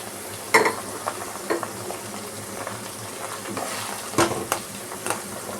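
Tomatoes added to hot refined oil in a pan for a spicy egg curry and stirred: a low sizzle under sharp clinks of a spatula against the pan, with several distinct knocks spread throughout.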